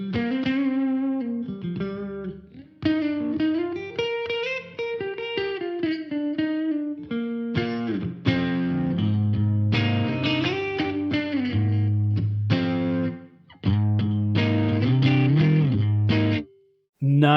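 Electric guitar chords and melodic lines drenched in reverb, with a spacious, lingering tail, playing steadily and loudly with brief pauses.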